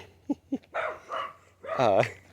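A dog indoors gives two short, sharp barks close by. A voice follows, and a whiny, yelping vocal rises near the end under the talk.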